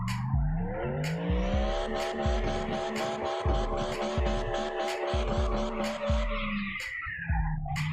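Drift car in CarX Drift Racing Online, engine revving high with repeated downshift blips and a steady tire squeal underneath, the revs rising and falling several times in quick succession, loud and close with no talking.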